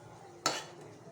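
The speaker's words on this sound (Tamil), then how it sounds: "இப்போ அடுப்பை சிம்மில் வச்சே கலரிக்கங்க." A single brief scrape of a spoon through a thick coconut, jaggery and cardamom mixture in a pan over low heat, with faint sizzling around it.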